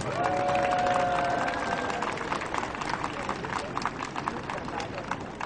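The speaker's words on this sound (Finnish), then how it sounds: "annetaan heillekin aplodit" Applause and cheering from an outdoor crowd at an Israel support march in Helsinki, steady and dense throughout, with crowd babble mixed in and a faint whistle-like tone near the start.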